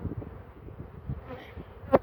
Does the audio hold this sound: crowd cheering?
no